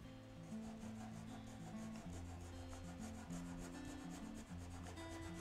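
A rasp filing wood during hand wood carving: a steady, close rubbing scrape with a continuous rhythm and no speech, set against a background of sustained tones.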